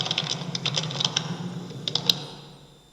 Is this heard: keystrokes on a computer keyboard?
yes